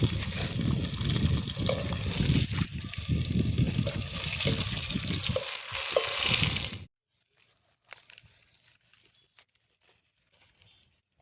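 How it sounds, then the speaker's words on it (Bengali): Chicken pieces for a KFC-style recipe deep frying in oil give a loud, dense crackling hiss that is close and constant for about seven seconds. It then cuts off abruptly, leaving faint scattered rustles. "তারপরে আবার একবার ডিপ ফ্রাইয়ে ভাজবো"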